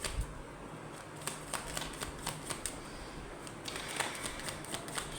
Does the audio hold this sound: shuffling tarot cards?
yes